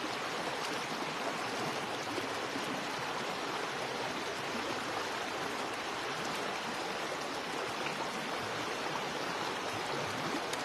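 A river flowing in a steady, unbroken rush of water, moderately soft and continuous with no voices over it.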